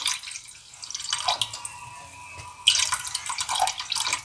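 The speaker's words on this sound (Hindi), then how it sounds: "आधा दूध मैं इसमें डालूँगी और आधा मैं रख लूँगी।" Milk pours into a pan for a custard cake, a close liquid trickle that steadies, pauses, then resumes louder and brighter in a continuous stream, with no talking.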